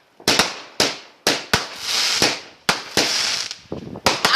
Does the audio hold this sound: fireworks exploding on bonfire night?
yes